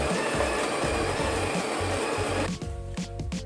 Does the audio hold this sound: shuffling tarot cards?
no